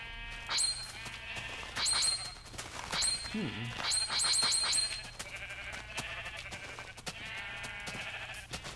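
Repeated sheep bleats, several in quick succession, mixed with soft clicks and a brief low swoop, from sheep being sheared in modded Minecraft.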